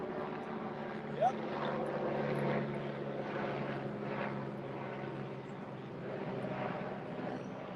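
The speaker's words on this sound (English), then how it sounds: "I reckon that's the police chopper" Police helicopter passing overhead at a suburban property auction in Glen Waverley, Victoria, a continuous distant whirring rotor and engine drone that swells and fades gently, with faint voices in the background.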